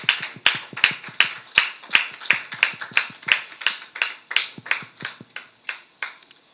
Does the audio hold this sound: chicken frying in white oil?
no